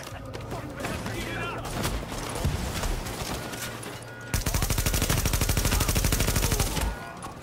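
Video game gunfire from The Division: dense, continuous shooting under loud combat noise, then a sharp switch into rapid, evenly spaced automatic bursts that hammer close and loud for about two and a half seconds.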